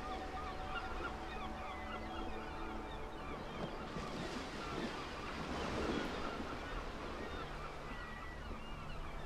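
Steady ocean surf washes continuously in the video game Titanic: Honor and Glory, a soft, even roar of waves with faint gull-like calls and a light wind layer running throughout.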